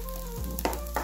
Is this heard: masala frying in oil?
yes